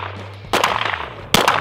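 A pistol fitted in a CAA MCK conversion kit fires two sharp, loud shots less than a second apart at targets on an outdoor range, each crack followed by a brief echoing tail.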